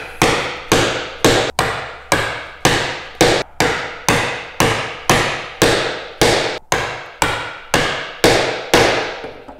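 A hand chisel is struck repeatedly with a mallet to chop a through mortise in wood, producing sharp, loud, evenly spaced blows, about two per second, each with a brief ringing decay.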